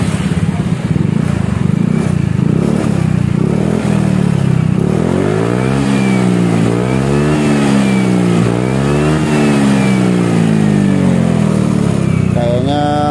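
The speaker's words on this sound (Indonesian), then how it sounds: "Itu suara yang sekarang ada ya, bawaan dari SKR Racing-nya" A Honda Beat scooter fitted with an SKR Racing exhaust revs repeatedly, its loud mid-pitched engine note climbing and falling in several close throttle blips after an idle.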